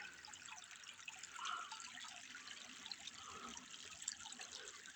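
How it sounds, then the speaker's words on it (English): Creek water trickling steadily through a swamp outdoors, a soft continuous wash with faint drips, steady and moderately distant with no talking. "The sound of that creek."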